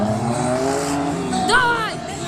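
A race car engine revs hard and tires squeal in a brief rising whine, loud and close, with an excited commentator talking over it.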